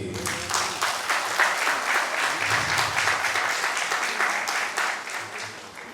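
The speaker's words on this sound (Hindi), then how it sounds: "एक बार जोर से ताली बजा दीजिए।" A theatre audience at a staged drama claps loudly and steadily throughout, a dense, sustained round of applause with no break.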